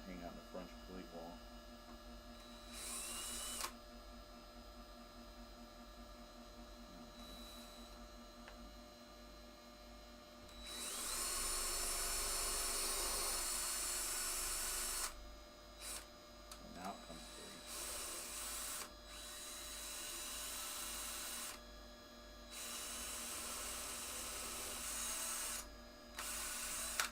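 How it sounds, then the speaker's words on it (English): A power drill pre-drilling holes for a French cleat wall plate in a woodworking shop whirs in several bursts of different lengths, over a constant electrical hum, with short quiet gaps between runs. "Just gonna put a couple, pre-drill some holes for this"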